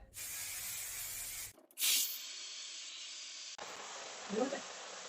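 Several short hissing bursts of aerosol spray, separated by brief pauses, with a faint rustle and a soft voice-like murmur near the end.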